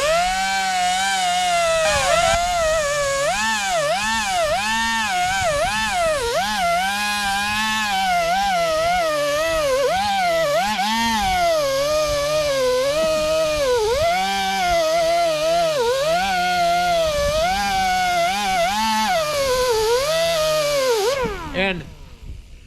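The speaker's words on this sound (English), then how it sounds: "just letting the sanding disc do all the work" A power tool with a 36 grit sanding disc grinds down a TRX450R ATV seat, giving a loud, close, wavering whine that rises and dips in pitch before cutting off near the end.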